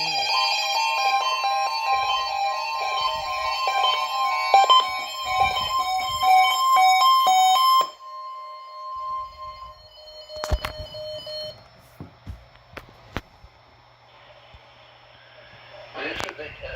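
A NOAA Weather Radio warning alarm attention signal sounds as a loud, steady two-tone electronic wail lasting about eight seconds. Shorter beeps and clicks follow, then a quieter stretch of static and faint tones.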